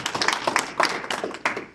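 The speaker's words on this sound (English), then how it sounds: "So big round of applause for him" A small gathering of a New England cricket umpires' association applauds to honour an umpire. The clapping is brief and sparse, with distinct individual claps from a few people close by, and it fades after under two seconds.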